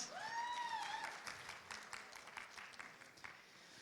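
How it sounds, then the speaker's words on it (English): Applause from the audience at a leadership conference in Birmingham, fairly faint and distant, a steady patter of clapping that fades slightly after a brief tonal whistle at the start. "can we have a massive round of applause"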